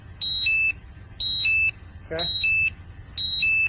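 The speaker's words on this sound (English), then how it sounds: "Hear the alarm?" A gas level meter alarm, sounding while oxygen readings hover near 17 percent in a work space, gives four loud repeating bursts of high electronic beeps in a steady on-off rhythm, with a brief voice between them.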